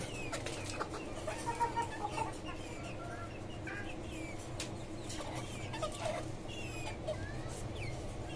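Soft clucking from several local desi chickens at a small rooftop poultry farm, scattered across a steady low barnyard hum, with occasional faint chirps and scratching noises in the background.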